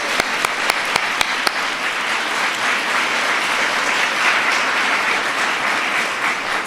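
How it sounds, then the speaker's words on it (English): Applause from military families gathered at the White House for the holiday decorations. A few sharp, distinct claps open it before the whole room joins in a dense, steady ovation that holds to the end. "So let's give them a round of applause."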